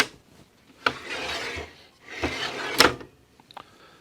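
A wooden drawer box with up-and-down-only adjustment is slid onto Blum Tandem drawer slides in a face frame cabinet: two close rasping glides, each ending with a click or thump, followed by a couple of light taps.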